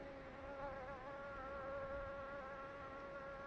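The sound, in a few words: bees buzzing around overripe bananas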